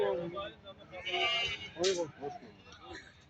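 Faint sheep bleats at a sheep market mixed with indistinct background chatter, a short wavering cry rising briefly above the murmur.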